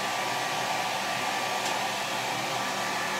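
A hair dryer blows steadily and loudly throughout while someone's hair is being dried section by section, with a constant broadband rush and no pauses.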